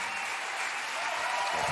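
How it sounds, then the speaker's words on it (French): A concert audience at a show applauds in a dense, steady wash of clapping that holds at an even level throughout, with no voices rising above it. "Applaudissez-vous encore"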